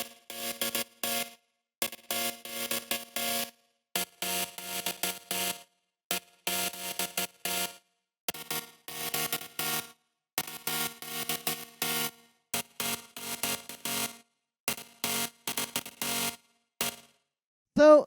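Warped, evolving synth chords, played as a series of short sustained stabs separated by gaps of silence, each chord bright and layered, ending on a louder swelling tone.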